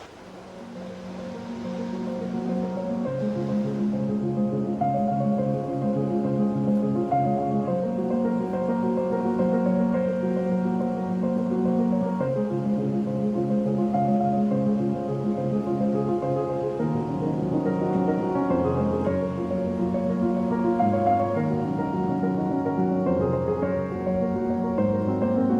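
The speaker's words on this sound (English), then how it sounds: "It's going to be a loud, hard-flowing river." A loud, hard-flowing stretch of the Metolius River in the Metolius Basin rushes steadily and continuously nearby, a dense unbroken roar of moving water with no voices.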